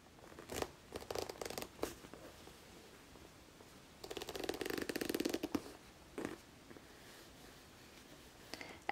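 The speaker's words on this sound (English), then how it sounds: "Hold the fabric steady and slide your seam ripper." A seam ripper slides through and cuts the stitches of a fabric seam, making faint, close, crisp snipping and tearing bursts, with one longer rasping run in the middle.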